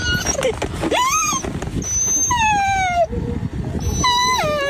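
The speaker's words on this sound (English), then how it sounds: "Video from Cal Fire shows the Great Pyrenees puppy named Zoe cry as it wiggles between the two" A Great Pyrenees puppy wedged between rocks cries and whimpers in repeated high, wavering yelps and whines, close and loud, over a rough background rumble.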